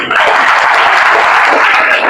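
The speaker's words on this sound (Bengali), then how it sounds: "ধরে একটা হাততালি চাই" Seminar audience applauding after a request for a round of claps, a dense burst of many hands clapping together for about two seconds, loud and close.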